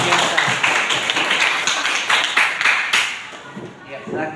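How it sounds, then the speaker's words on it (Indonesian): Classroom applause, a lively burst of quick rhythmic clapping from students that stays loud and then tapers off near the end, with voices mixed in. "Kasih tepuk tangan dulu dong."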